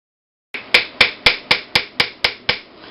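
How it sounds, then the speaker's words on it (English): Eight evenly spaced, sharp metallic hammer strikes on the end of a silver ring wire, each ringing briefly and decaying, loud and close with no talk. "I angle my hammer slightly so that I hammer the end of the wire a little more than the rest of it"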